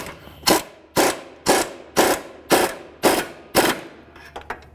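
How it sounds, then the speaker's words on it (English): A hand ratchet tightens sway bar link nuts on a Dodge Journey: seven sharp, evenly spaced clicking bursts about half a second apart, close and crisp, followed by a few lighter clicks. "We can go ahead and tighten up the nuts for the lower aspect here"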